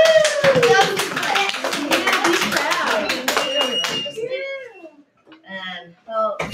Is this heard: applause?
yes